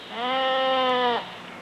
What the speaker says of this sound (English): Let's hear what that goat sounds like now.